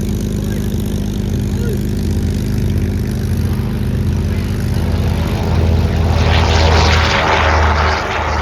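A propeller aircraft, Spitfire or Dakota, runs its engine at London Southend Airport, a loud steady drone that swells briefly toward the end, with faint voices in the background.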